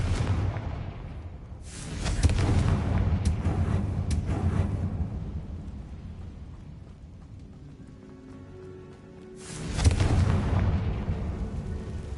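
The Confringo fire spell in the Hogwarts Legacy video game bursts out in loud, crackling blasts, in two separate rushes with a rumbling, fiery roar between them.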